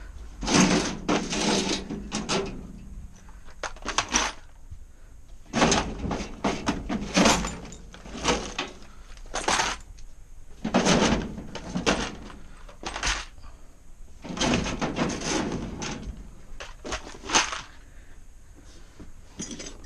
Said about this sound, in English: This is very useful, these drawers.